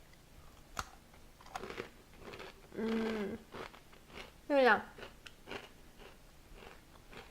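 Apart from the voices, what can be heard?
biting into crunchy triple chocolate biscotti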